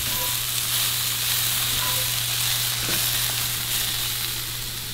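Eggs frying in a pan on a home stove for an athlete's breakfast give off a loud, steady, close sizzle with a constant hiss, alone with no voice and a low hum running under it.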